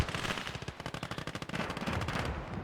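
A Stuart tank in Gates of Hell Ostfront fires a rapid machine-gun burst, a fast, even string of close, loud shots lasting about a second and a half among battle noise, with no voices.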